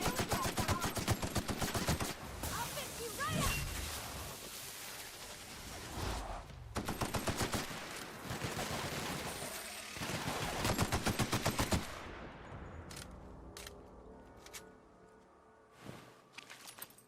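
Sustained automatic gunfire in the video game Monarch, loud and close, with long rapid bursts broken by short pauses, then fading to scattered single shots and quieter footsteps near the end.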